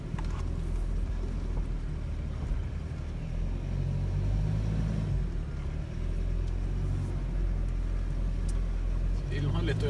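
A car grinds along a rough track through Namibia's Hartmann Valley toward Marienfluss, its engine laboring under constant low rumble and jolts, with someone talking over it.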